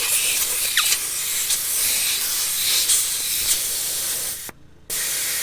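Air hisses loudly and steadily out of tyres on a van and an F250 truck through ARB easy deflators on a roadside, a broad continuous rush with a brief drop near the end before resuming.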